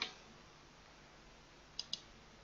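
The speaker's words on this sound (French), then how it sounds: "Donc, clic droit." Computer mouse clicks, one faint click at the start and then two quick, crisp clicks close together near the end, over quiet background hiss.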